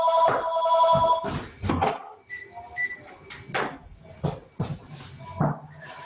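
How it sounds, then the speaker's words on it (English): A phone rings during a presenter's talk at home, with repeated electronic ring tones in short bursts mixed with handling noise and shuffling. "Oh no, my phone's ringing."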